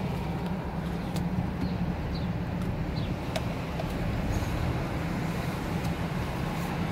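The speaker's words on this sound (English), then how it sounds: "there's a lot of traffic going on around here" Road traffic outside forms a steady, low, continuous rumble of passing vehicles with a few faint clicks, and no one speaks.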